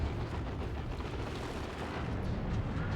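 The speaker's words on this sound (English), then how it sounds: "Really excellent to have that kind of artillery fire in these team games" Dense, continuous rumble of heavy video game artillery fire and booming blasts in Dawn of War II, steady and loud throughout with no pauses.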